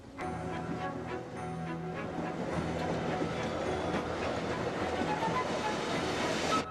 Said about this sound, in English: Our train appears out of a tunnel and arrives at the station by the lake